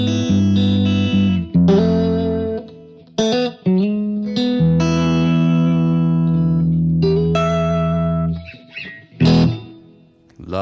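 Electric guitar through a Safari Pedals Ladybug reverb pedal on its plate setting: picked chords and single notes ring out with lush, shimmering tails that sustain and fade between phrases, played alone without speech.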